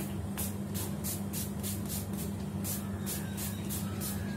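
A Revolution makeup setting spray bottle gives a quick run of about a dozen short, hissing puffs in a steady rhythm over a low, constant background hum.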